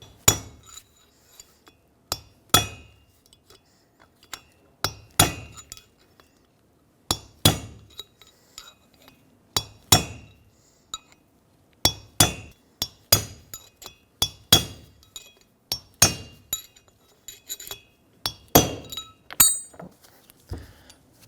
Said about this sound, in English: I'm going to take a punch and a hammer and just go around the whole perimeter and evenly punch this race out.